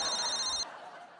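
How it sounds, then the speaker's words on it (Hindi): A telephone rings on a comedy show set, a bright tone that sounds briefly and then cuts off, with a faint murmur of voices underneath. "अभी फोन आ गया आपका।"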